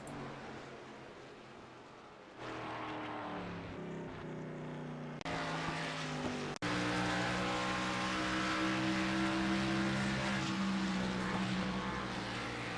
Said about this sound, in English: You hear the engine sputter right there.